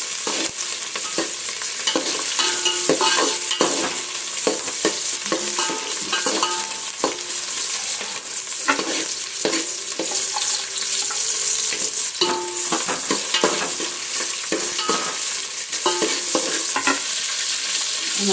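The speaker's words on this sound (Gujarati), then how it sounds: "ફટાફટ કરવાનો અને સોતે કરવાના છે બધા વેજીટેબલ" Vegetables are stir-fried in a hot pan for crispy chilli potato, giving a loud, continuous sizzle broken by repeated close scraping and stirring strokes, with no talking.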